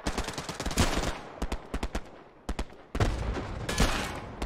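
M1 Garand rifle fire in the WW2 game Hell Let Loose cracks out in sharp, rapid single shots, often several in quick succession, among distant battlefield gunfire.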